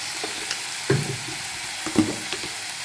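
Leafy gheemi greens (gemi shak) frying in a pan and being stirred, a steady hiss with two louder scraping stirs near the start and near the end, close by with no talk.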